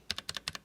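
A handful of quick, close key clicks on the Enter key of a Redragon K632 PRO Noctis low-profile keyboard tap out in rapid succession, each sharp and short.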